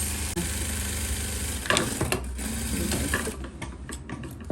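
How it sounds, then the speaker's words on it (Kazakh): A sewing machine runs steadily stitching a straight seam on a skirt, a close, continuous whirring hum with a few brief clicks and shifts in pace, no talking. "осыны тура сызықтың үстінен қисаймай тігіп шығасыз"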